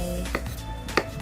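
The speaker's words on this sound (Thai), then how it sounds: "หั่นกุ้งสดค่ะ เป็นชิ้นๆนะคะ ไม่ต้องละเอียดมากนะคะ" Two quick knife chops through fresh shrimp on a cutting board over a steady low hum, spaced under a second apart.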